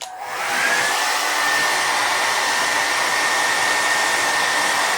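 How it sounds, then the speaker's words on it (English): A regular household hair dryer switched on to its high setting, a loud, steady whooshing roar of blowing air with a constant motor whine that starts abruptly and runs evenly throughout. "So here's just kind of a regular hair dryer"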